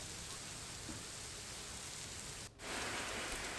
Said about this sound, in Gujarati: ભારે પવન સાથે વરસાદ વરસી રહ્યો છે